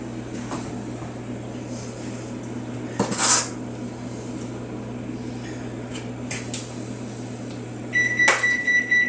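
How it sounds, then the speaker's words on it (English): An oven beeps after preheating to 350, a short high electronic tone that sounds near the end over faint kitchen rustling and clinks of dishes, with no voices. "That's the oven telling me it's 350, ready to go."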